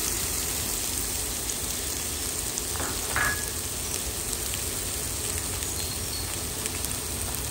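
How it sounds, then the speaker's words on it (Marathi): Onion frying in oil in a pan with ginger and garlic for a village-style Konkani prawn curry, a steady close sizzle and crackle running evenly throughout with a couple of brief clinks partway. "एका कायलीन इल्लेशे तेल घालून कांदो तळसून घेता"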